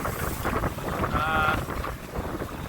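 A 1980 C30 sailboat takes strong wind of about 20 knots gusting 24 in rough 2-3 foot seas; loud, constant wind roars and buffets the microphone over the rush of water.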